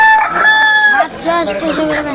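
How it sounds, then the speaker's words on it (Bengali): A red rooster crows loudly and close at a rural village market, one drawn-out crow followed by clucking and other fowl calls amid the background bustle. "এই যে এখানে একটা লাল মোরগ দেখতে পাচ্ছেন"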